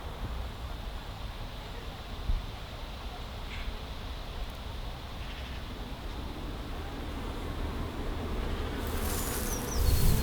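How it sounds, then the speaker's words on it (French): Bees forage on strawberry flowers in a garden plot with hives nearby, a continuous soft buzzing drone of many insects close around, faint and steady, rising slightly toward the end with a brief brighter noise burst. "je suis entouré d'abeilles qui butinent les fleurs"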